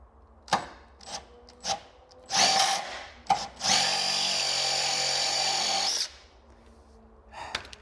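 A power tool works at stripped bolts on a Mk2 Audi TT: short taps and brief bursts, then a sustained loud whirring run of about two seconds, followed by a few faint knocks.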